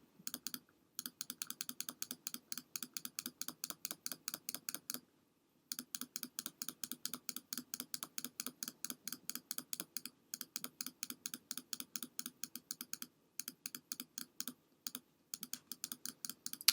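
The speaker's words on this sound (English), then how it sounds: "every stroke is an individual click" Rapid, crisp computer mouse clicks repeat steadily in dense bursts, close and dry, while painting in Adobe Photoshop, with a short pause midway and a few brief gaps later; no one talks.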